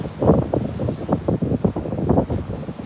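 Loud outdoor wind buffets a microphone in continuous gusty rumbles, with low-frequency thumps rising and falling throughout.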